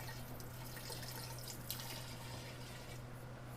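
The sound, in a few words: pouring sugared liquid into kombucha vessel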